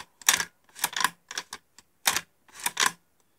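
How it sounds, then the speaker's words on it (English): A modified Beretta 1301 semi-automatic shotgun has its bolt worked slowly by hand, giving six or seven sharp, close metallic clicks and clacks in short uneven groups, separated by quiet gaps. "Cycle the bolt slowly."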